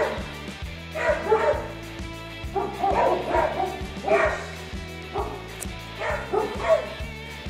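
A German shepherd gives several short bursts of barking and yipping over a steady, repeating musical background, moderately loud.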